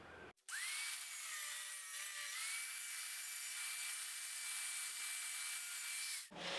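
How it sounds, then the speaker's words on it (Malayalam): A power cutter slices a profile light channel at a 45-degree angle during a ceiling lighting install, giving a steady, high whining grind that starts abruptly, holds for about six seconds, then cuts off. "എന്നിട്ട് കട്ടർ ഇട്ടിട്ടൊന്ന് കട്ട് ചെയ്താൽ മതി."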